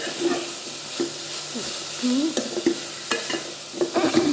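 Onion and garlic fry in oil, sizzling steadily in a pan while a utensil stirs and scrapes, with occasional sharp clinks against the metal.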